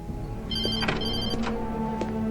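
A phone rings in a video game, a close, clear electronic ringtone sounding in repeated chirping bursts over a low background hum.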